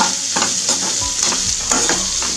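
Onions fry with turmeric in a pan over a medium gas flame for an aloo masala palya, a steady loud sizzle broken by several scraping stirs of a spoon.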